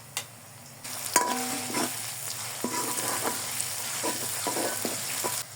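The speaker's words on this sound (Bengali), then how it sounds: "আদা রসুন দেওয়ার পর আরও কিছুক্ষণ কষিয়ে নিয়েছি।" Ginger garlic paste fries in hot oil in a pan for chicken korma, a close continuous sizzle punctuated by several scraping, clinking stirs of a spoon against the pan, with no speech.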